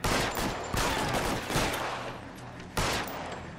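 Gunfire in the video game L.A. Noire comes as four loud, separate shots or short bursts, each with a sharp attack and a decaying echo.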